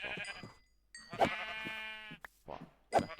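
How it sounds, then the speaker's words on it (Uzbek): Sheep in the video game Minecraft bleat in a few short, wavering calls close by, separated by brief quiet gaps. "O'sha bu yerda qo'ylar bor ekan."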